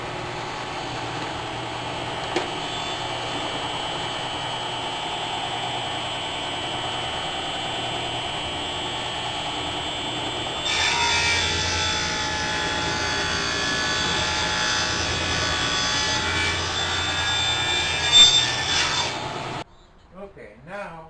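A table saw cuts tenon cheeks on a wooden stretcher for a Morris chair, giving a steady whirring drone with rasping blade noise. The sound grows louder and harsher about halfway through, then cuts off just before the end.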